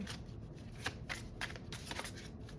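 Close, quiet riffling of an oracle card deck being shuffled, several quick flicking bursts in a row.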